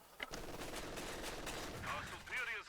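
In a Company of Heroes 2 match on the Crossroads map, an MG42 machine gun fires a fast, continuous burst of tightly spaced shots under a commentator's voice.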